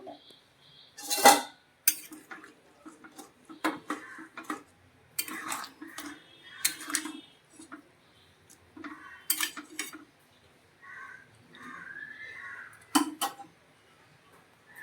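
A spoon clinks and scrapes against a pot as an egg, soybean and potato curry is stirred, sounding as sparse metallic taps and rattles separated by quiet gaps.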